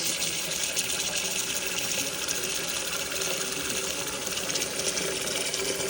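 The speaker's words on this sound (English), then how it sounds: "fill this up with water" Steady rush of running water pouring into a cooking pot over meat, an even hissing stream lasting throughout with no talking.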